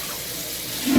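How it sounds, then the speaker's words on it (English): Hot water runs steadily from a kitchen tap in a one-second burst, a constant broadband hiss that swells slightly louder near the end as the flow changes or strikes a container. "To make it dissolve easier, I am getting hot water."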